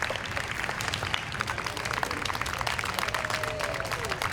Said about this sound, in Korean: 관객들은 무사히 땅을 밟은 이들에게 박수를 보낸다.